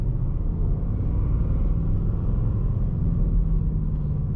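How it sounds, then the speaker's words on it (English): A steady, deep V8 engine rumble from a 2019 Ford Mustang Bullitt drones continuously at an even level, close and unbroken, with no voices. "you can still hear the rumbles of the engine"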